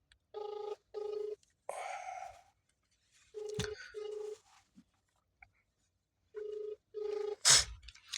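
Telephone ringback on an unanswered call: three pairs of short electronic ring tones in a regular double-pulse pattern, heard close, with brief breathy sounds and a sharp click between them.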